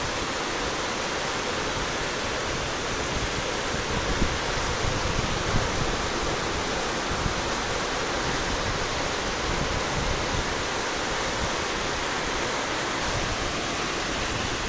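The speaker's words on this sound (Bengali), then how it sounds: "ঝুম বৃষ্টি চলছে।" Heavy rain pours down over rooftops in Dhaka, Bangladesh, a dense, loud and constant hiss that holds steady without a break.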